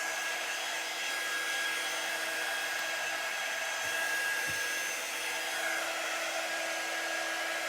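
A hair dryer runs on its higher setting, giving a steady, loud, close whoosh of blown air with a constant motor whine throughout and no speech.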